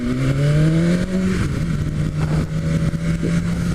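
A 2020 BMW S 1000 RR motorcycle engine revs up, then drops back and settles into a rough, steady idle close by with no talk.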